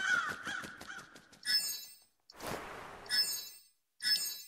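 Crows caw in the video game Crossroads: On A Just Path, a run of harsh repeated calls followed by a few separate caws with a short whooshing effect, clear and alone without talk.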